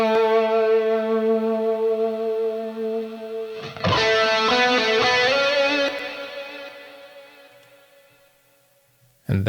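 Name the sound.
electric guitar melody with chorus, hall reverb, doubler and delay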